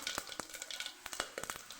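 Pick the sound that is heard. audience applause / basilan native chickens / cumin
cumin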